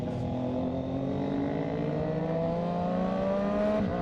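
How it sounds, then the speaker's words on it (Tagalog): A car moves past on a road during a long motorbike ride off an expressway in Luzon, heard as steady engine hum and whir with shifting tones over a continuous rider's engine drone, fairly close throughout. "Aba, ayos to, may kotse dito."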